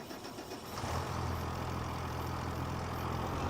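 A tractor engine in Farming Simulator 25 cranks and catches, then settles into a steady, low mid-pitched idle that runs alone and fairly quietly to the end.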